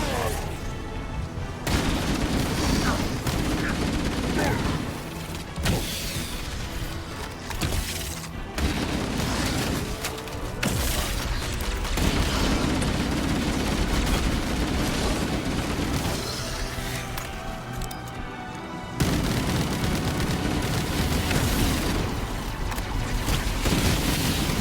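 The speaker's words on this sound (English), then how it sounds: "Why are you firing at me?" Gunfire in Halo Campaign Evolved, loud sustained bursts of shots and booms nearly continuous across the stretch, with brief gaps, over a busy layered game soundscape.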